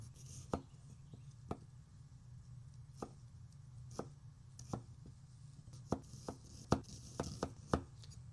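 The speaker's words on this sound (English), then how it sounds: "So the first thing we'll do is give this a little chop just like that" A knife chops garlic and bay leaves on a cutting board, sharp knocks landing one at a time at first and then in quicker bunches toward the end, over a low steady hum.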